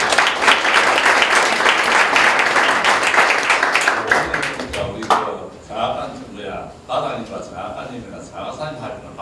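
An audience at a high school taekwondo poomsae team founding ceremony applauds loudly for about five seconds, then the clapping fades and a speaker's voice continues over the hall.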